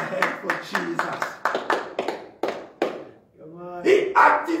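A church congregation claps hands for Jesus in short bursts of sharp, close claps, followed by a voice speaking over them.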